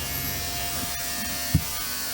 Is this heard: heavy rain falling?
no